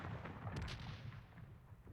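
Distant cannon fire in a Civil War setting, a few muffled booms and rumbles that are faint and low, with a brief sharper crack near the middle.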